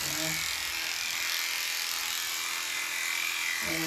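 Electric clippers buzz steadily and close up while trimming a dog's head fur during grooming, a continuous high whine that barely changes.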